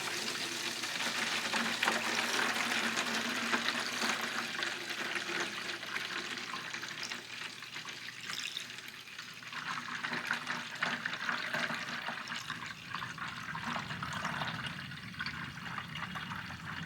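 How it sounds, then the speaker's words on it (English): Fresh milk pours steadily through a filter for a long stretch, a continuous splashing, trickling rush that stays close and even throughout, with no talking. "I still filter this just in case. So I just slowly pour this in."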